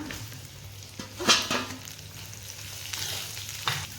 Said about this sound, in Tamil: நீல வாக்கில் கட் பண்ண வெங்காயத்தை போட்டுக்கலாம்